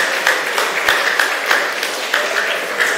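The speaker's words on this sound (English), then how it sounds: "Clap for yourselves." A school audience at a mentorship session claps for itself, a dense steady patter of many hands filling the room with a few louder individual claps standing out.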